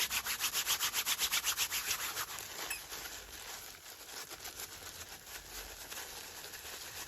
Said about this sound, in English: wet that and then just rub it all in again,